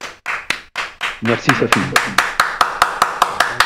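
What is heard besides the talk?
hand clapping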